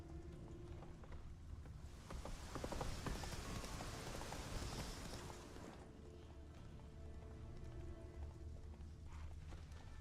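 Hooves of the horse Roach galloping in the Witcher 3 video game, a faint, rapid clip-clop rhythm that swells in the middle and then settles, with no talking.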